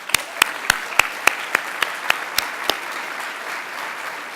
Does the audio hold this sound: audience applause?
yes